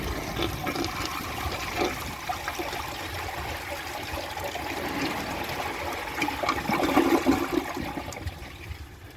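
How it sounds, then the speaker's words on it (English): A 1984 Kilgore Apex toilet flushes with a gurgling rush of water that swells toward the end and trickles off, loud and close with no talking. "Let's give it a flush."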